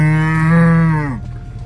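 A cow moos once, a long loud low call held for about a second before trailing off, on a mountain road among farms, with open-air background afterward.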